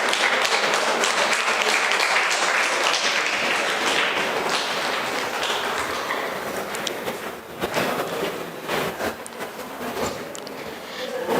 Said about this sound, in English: Let's give a warm round of applause for Vincent Raj from Tyagaraja College